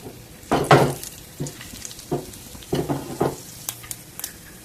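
Mustard seeds, cumin and chana dal crackle in oil, giving irregular pops and short sizzling bursts up close, with a few clinks of a utensil against the pan.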